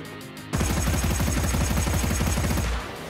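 A rapid, steady stream of automatic gunfire in the video game Dreams starts abruptly and rattles loud and close for about two seconds before cutting off, with no talk over it.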